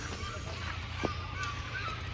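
A peahen calling outdoors, a few short honking calls over steady background noise, moderately near.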